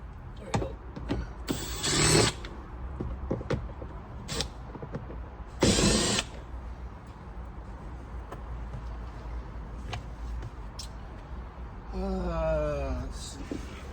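Screws being removed from a Ford Explorer passenger door, with short bursts of a power driver whirring, faint ratcheting clicks and handling noises between, and a brief rising whine near the end.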